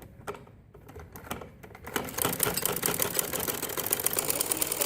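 A sewing machine stitching fabric for men's Bermuda shorts, starting with slow separate needle taps, then speeding into a loud, fast rhythmic clatter that runs steadily to the end.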